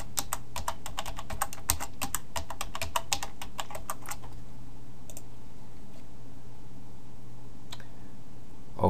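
Keys clicking on a computer keyboard as a WordPress login is typed, a quick run of close, crisp keystrokes for about four seconds, then a few isolated taps against quiet room hum.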